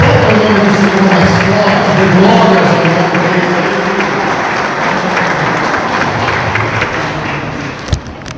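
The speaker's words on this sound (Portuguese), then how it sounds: "Aplauda o nome do Senhor mais forte, de glórias ao nome dele." Church congregation applauding at an evening service, a dense steady wash of clapping that fills the space, a voice faintly over it, then tapering slightly near the end.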